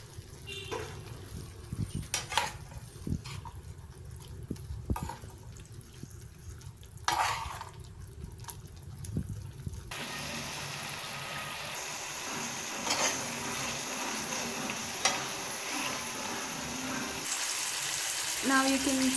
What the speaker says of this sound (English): Now you can see all the vegetables are frying.